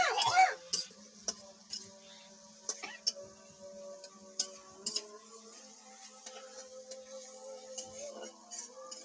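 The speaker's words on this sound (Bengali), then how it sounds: "এবার নেড়ে চেড়ে নিচ্ছে।" A spatula stirs food in a cooking pan, giving irregular sharp clicks and scrapes against the metal over a quiet low hum, close and fairly faint.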